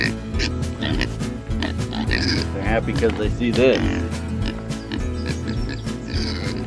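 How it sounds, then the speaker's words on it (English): Several pigs grunting and oinking in a pen, close and fairly loud, mixed with a person talking over them throughout. "Look at you happy pigs."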